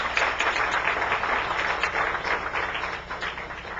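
A church congregation claps in thanks during a service, a short, dense patter of many hands at fairly close range.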